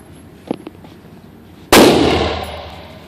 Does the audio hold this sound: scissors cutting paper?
no